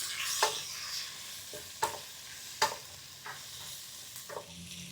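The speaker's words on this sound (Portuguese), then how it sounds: "mexendo de vez em quando, até a cebola cozinhar e dourar um pouco" A spoon stirs onion frying with turmeric, cumin and salt in a pan, giving a few scattered scrapes over a faint, steady sizzle. It is close and quiet, with no talking.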